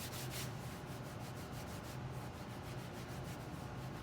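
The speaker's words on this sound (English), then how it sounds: "I could always hear my hands rubbing the canvas" Soft, continuous rubbing as palms roll a clay coil back and forth on canvas, a faint close-up swishing with a slow rhythmic texture and no talking.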